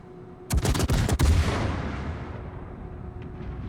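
Torpedoes strike warships in World of Warships, a sudden rapid cluster of heavy blasts, one near-overlapping burst after another, followed by a long rolling rumble that slowly decays.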